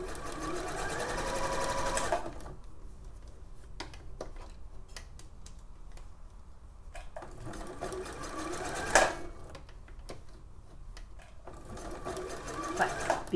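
A sewing machine runs steadily for a long stretch while stitching narrow elastic around a curve on a Vogue 9199 pattern piece, with a few short pauses and light clicks and handling sounds between bursts.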